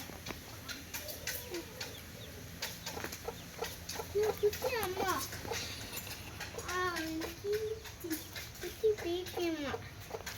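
Chickens clucking in short bursts, mixed with children's voices talking and shouting nearby in an outdoor, farmyard-like setting.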